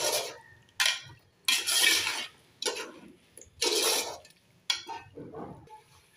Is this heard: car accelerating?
no